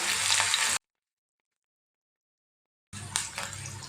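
Four or five crushed garlic cloves and a small piece of crushed ginger sauté in a pan for a Kerala fish curry: a short close sizzle, then about two seconds of dead silence, then the sizzle returns.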